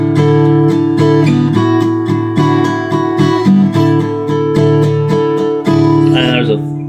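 Acoustic guitar strums through a song's chord progression, steady and close, ringing out alone with the last chord sustaining.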